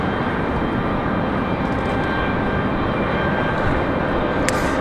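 A jet airliner in American Airlines retro livery passes at Raleigh-Durham airport, a steady loud roar of engines filling the whole stretch at close range, with no talk.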